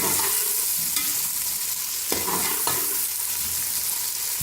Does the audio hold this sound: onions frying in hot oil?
yes